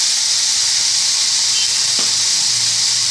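Tomatoes with turmeric powder sautéing in a pan for a coconut milk gravy, giving a steady broadband hiss and sizzle that runs continuously at an even level throughout, with no talking.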